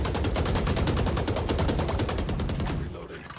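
Rapid automatic gunfire in a tactical shooter video game, a steady burst of evenly spaced shots fired at a brick wall, loud and close, running for nearly three seconds before cutting off.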